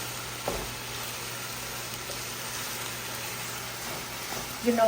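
Red chicken curry with curry paste sizzles steadily in a pan as it is stirred, a soft, even frying hiss with a few faint scrapes.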